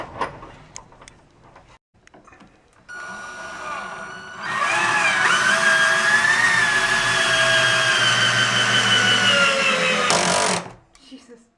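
A power driver sinks a 3.5-inch wood screw into a wooden wall stud with one sustained close whir of about six seconds, ending abruptly, after a few faint knocks and a short lower buzz.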